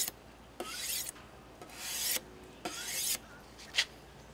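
Steel knife blade stroked along the beveled top edge of a half-lowered car window glass, four slow rasping strokes spaced about a second apart, close and moderately loud with no talking.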